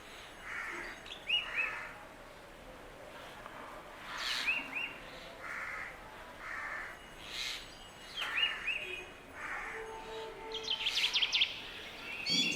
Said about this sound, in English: this black drongo was tweeting a sweet rhythmic tune at frequent intervals